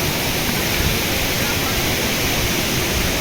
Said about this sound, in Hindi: ये पानी कहाँ से निकल के पूरे खेतों को बर्बाद करके आगे नीचे नदी में समा रहा है